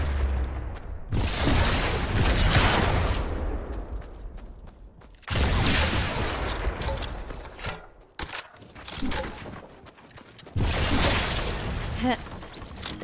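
Gunfire in Fortnite, loud bursts of rapid shots and booming blasts in three long stretches separated by short pauses, heard close with some mechanical clatter between volleys.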